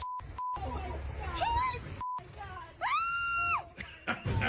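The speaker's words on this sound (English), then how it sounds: "The one chick is screaming." A woman screams in a played-back recording from inside a house, long drawn-out wails with electronic beeps and a low rumbling background, loud and close over broadcast audio.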